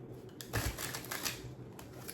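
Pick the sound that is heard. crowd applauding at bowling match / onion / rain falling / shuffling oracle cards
shuffling oracle cards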